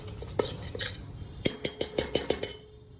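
A spoon stirs masala in a pan with the gas off, scraping softly at first, then a quick run of about seven sharp metallic clinks against the pan before it settles.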